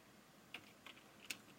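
Three or four sparse keystrokes tapped on a computer keyboard while filling in a spreadsheet, crisp but faint clicks with gaps between them in a quiet room.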